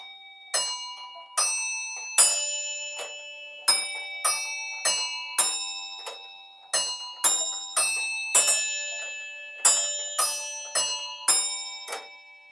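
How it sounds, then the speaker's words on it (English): Four small tuned bells on a hobbyist-built tower clock model chime the Westminster melody, clear bright strikes in a measured sequence of groups, each ringing out and decaying before the next, with no talking. "he had to tune them exactly to this Westminster sound, those four little bells, so you get this nice melody."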